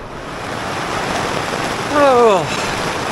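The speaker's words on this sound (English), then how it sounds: "Rain's a bit loud, Rasher, isn't it?" Steady heavy rain keeps up a loud, even wash of hiss from start to finish, and a short rising whistle-like tone sounds briefly near the end.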